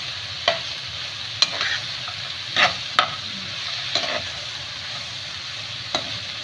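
Crushed chickpeas and green chillies sizzle in oil with a soft continuous hiss, broken by several sharp spatula scrapes and taps against the pan at irregular intervals.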